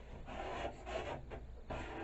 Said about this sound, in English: just scrape down the plate itself